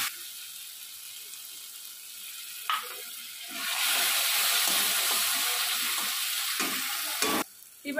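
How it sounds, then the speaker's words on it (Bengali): Spice masala for a mutton curry sizzles in a pan as splashes of water are added, quiet frying at first, then a loud burst of hissing steam that holds steady, broken by a brief stir and a sharp clatter near the end. "মশলাটাকে আমি অল্প অল্প করে একটু জল দিয়ে দিয়ে কষাতে থাকবো।"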